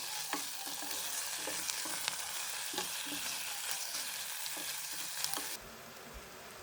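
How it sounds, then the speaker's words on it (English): Onions and meat fry in hot oil for Persian khoresh-e gheymeh, a close, steady sizzle broken by regular stirring scrapes, then quieting at the end. "Then add the meat and fry well."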